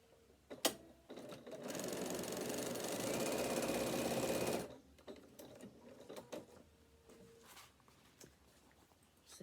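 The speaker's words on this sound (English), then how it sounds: "we're going to stitch along that seam there" Sewing machine running steadily for about three seconds as it stitches a seam on a bag, a fast, even mechanical whir framed by quieter clicks and fabric handling before and after.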